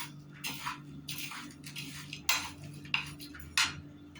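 A utensil stirs fesikh, salted fish, with turmeric, coarse salt, oil and chili in a bowl, giving soft scraping and a few sharp clinks spaced irregularly, quiet and close.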